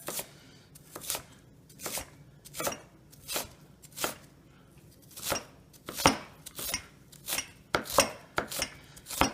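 Knife chopping ginger matchsticks into small pieces on a board, about a dozen crisp separate chops with uneven gaps, close and clear with no talk.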